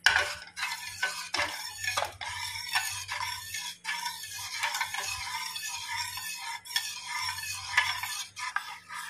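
Ragi (finger millet) mixture being stirred continuously in a pot on a gas flame, with repeated close scraping and swishing strokes of a spoon against the metal, a steady rhythm over a faint low hum.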